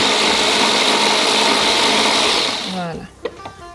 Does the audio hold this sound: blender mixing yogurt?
yes